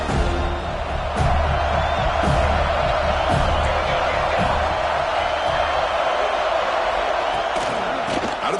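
A packed football stadium crowd roars and cheers at a Miami home game, a loud continuous wash of voices with a few swells, while a commentator speaks over it.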